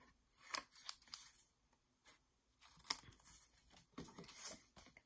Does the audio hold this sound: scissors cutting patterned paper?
yes